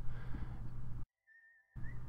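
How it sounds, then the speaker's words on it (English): A single off-key whistle, one thin wavering note that slides slightly in pitch, sounds faint and brief in a sudden hush between stretches of low droning background noise. "an off-key whistling sound coming from my living room"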